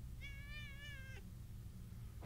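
A cat meows once in a video game, a single long, drawn-out tonal call lasting about a second over a steady low background hum, then quiet.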